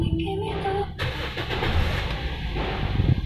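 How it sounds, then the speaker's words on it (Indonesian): A 2011 Toyota Yaris 1.5 E with a manual gearbox is started from inside the cabin. After a brief starter crank the engine catches about a second in and settles into a smooth, steady idle, heard close up. "Mari kita nyalakan mobilnya ya."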